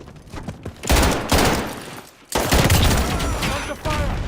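Bursts of automatic gunfire from a Call of Duty Modern Warfare multiplayer match, loud and close, with two long rattling volleys split by a brief pause and some game sounds over them.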